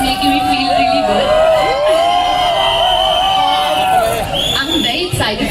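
A large, energetic morning crowd at a Deva film event with Shahid Kapoor and Pooja Hegde cheers loudly and continuously, with whoops and shrill shouts rising over a dense roar of voices throughout.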